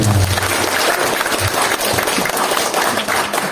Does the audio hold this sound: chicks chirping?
no